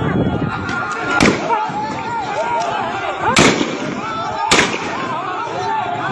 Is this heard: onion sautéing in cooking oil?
no